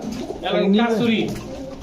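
Soft pigeon cooing close by from Kasuri Teddy pigeons, a low throaty warble rising and falling over about two seconds.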